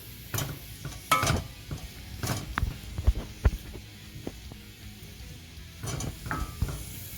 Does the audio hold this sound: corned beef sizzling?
yes